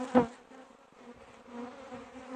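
Honey bees buzz around an open kazık hive, a low steady hum with a brief louder burst near the start, close and fairly quiet, no talking.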